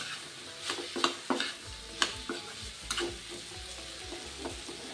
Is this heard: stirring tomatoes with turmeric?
yes